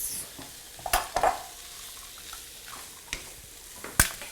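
Eggs frying in a frying pan for a home stir fry: a quiet, steady sizzle punctuated by a few sharp clinks and scrapes of a utensil against the pan, close up, with no one talking.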